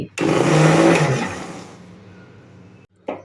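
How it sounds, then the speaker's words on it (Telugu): A loud electric mixer grinder whirs up to speed blending cooled spinach leaves, then winds down and stops, followed by a brief clatter. "పూర్తిగా చల్లారిన పాలక్ ఆకులను ఒక మిక్సీ జార్లోకి తీసుకొని మెత్తగా మిక్సీ చేసుకోవాలి"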